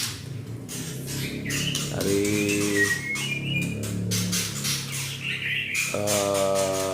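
A white-rumped shama (murai batu) of the Bohorok type sings in a breeding cage, giving bright whistled phrases and chirps in bursts, fairly near and loud over steady background noise.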